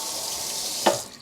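A kitchen tap runs briefly into a measuring cup while preparing potato bread dough, a soft steady hiss of water ending in a short splash near the end.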